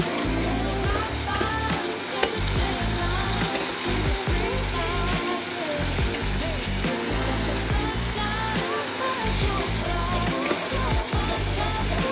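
Dahi katla fish frying slowly in oil with turmeric powder, giving a steady, dense sizzle and crackle that runs continuously at close range with no talk.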